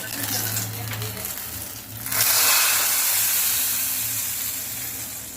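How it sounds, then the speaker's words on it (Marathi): A sudden loud sizzle bursts out as hot tempering is poured into spinach-stem and moong dal soup after a couple of seconds of quiet low rumble, then hisses steadily and slowly fades. "त्याच्यामध्ये आता फोडणी ही घालायची आहे"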